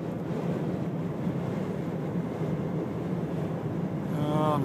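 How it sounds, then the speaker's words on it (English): Strong, steady wind during a dust storm on the I-10 near Tucson roars and buffets the microphone in a continuous broadband rush, with no talking. "now it's getting windy"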